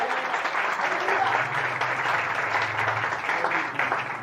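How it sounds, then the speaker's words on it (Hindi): A church congregation claps and applauds together, a dense steady wash of hands sustained throughout with a low murmur of voices beneath. "तो फिर उसके लिए तालियां बजाएं।"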